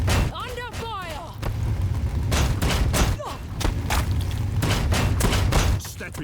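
Rapid bursts of gunfire and heavy thuds from a Warhammer 40,000 battle game between Orks and Imperial Guard, loud repeated shots in clusters with a voice chattering over the opening moments.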